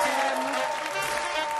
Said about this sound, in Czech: Vám tleskáme, děkujeme.